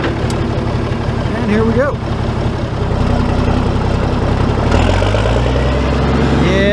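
The engine of a Farmall 806 tractor runs loudly and steadily as it heads out to mow hay, a continuous low rumble with a short voice speaking over it.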